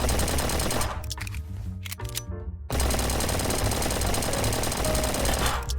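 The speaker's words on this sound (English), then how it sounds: "This means we can now shoot zombies and break open the safe by simply shooting it enough." Rapid automatic gunfire from a co-op Unity heist game, shooting zombies and blasting at a safe: dense, loud, continuous bursts with one brief gap, game audio alone and no talking.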